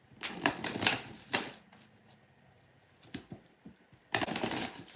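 Tarot cards being shuffled in quick riffling bursts, loud at the start, then a lull with a few light taps, and another brisk burst near the end; no talking.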